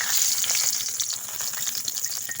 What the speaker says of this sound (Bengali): তেলটা গরম হয়ে গেছে, এবার একে একে মশলাগুলো দিয়ে দেবো। প্রথমে তেজপাতা দিয়ে দিলাম